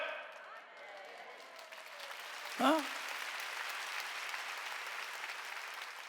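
A church congregation applauds during a Wednesday worship service, a soft, steady wash of clapping heard from a distance with a brief sharper sound near the middle.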